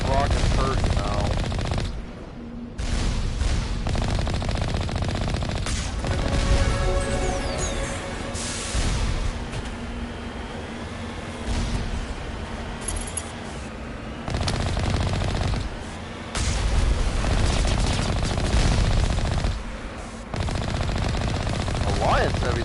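A heavy Alliance turret in Mass Effect fires sustained, loud automatic bursts, broken by short pauses, while a voice talks over parts of the shooting.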